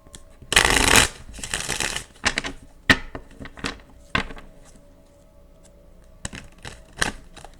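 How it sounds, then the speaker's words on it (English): Tarot cards being shuffled in a quiet room: one dense riffle burst near the start, then a string of sharp, separate card snaps and taps spread out unevenly, each one loud and close, with no speech. "that was like the most ridiculous shuffle I've ever done in my life"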